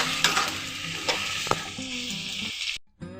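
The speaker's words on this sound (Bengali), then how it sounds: "পেঁয়াজটা ভালো করে লাল লাল করে ভেজে নেব।" Sliced onions with green cardamom frying in oil in a pan for chicken kosha, a constant sizzle broken by sharp scraping stirs of a spatula, close up and fairly loud, then a brief pause.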